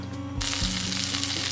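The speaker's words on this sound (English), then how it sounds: "cooking the eggplant and the mushrooms in a little bit of vegan butter" Vegan butter sizzles in a pan on medium heat, ready for eggplant and mushrooms. A steady, loud hiss and crackle starts abruptly partway through and holds to the end, with no talk.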